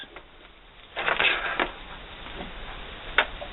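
A sewing machine stitches around a fabric reusable sandwich wrap, giving a short whirring run of stitching that stops, then a lone click in a quiet room.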